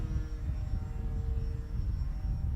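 A Durafly HobbyKing Beechcraft M35 Bonanza RC model plane, just under a meter in span, flies rolls overhead with a steady, continuous engine drone and low rumble heard alone at moderate distance.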